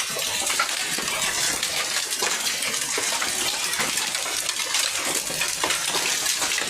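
Heavy rain pours down in a dense, continuous hiss with scattered drops and splashes, loud and steady throughout, with no voices.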